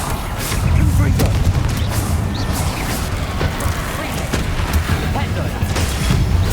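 Confringo fire spell blasts in Hogwarts Legacy boom out in a dense, ongoing battle, with repeated explosive bursts and crashes over a constant rumbling background.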